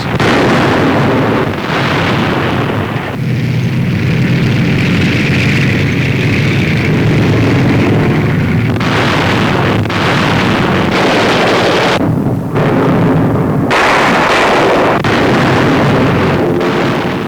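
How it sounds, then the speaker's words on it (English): In archival wartime newsreel footage, explosions and anti-aircraft fire from an air raid over Nazi-held territory come through as a loud, continuous roar of booms and bursts. The sound is dense and coarse, with no speech. "Sailing above and through Nazi anti-aircraft fire, the bombers shoot down Messerschmitts that challenge their advance."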